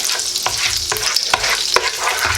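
Onions and butter sizzle loudly in a hot pan as chicken fried rice gets started, a steady frying hiss broken by several scraping stirs of a utensil, close up and with no talking.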